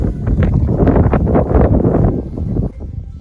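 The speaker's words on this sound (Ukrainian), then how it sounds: "Дуже вітер холодний, холодно, хвилі великі." Strong, cold wind buffets the microphone in loud, rough gusts beside water with big waves while fishing, easing slightly toward the end.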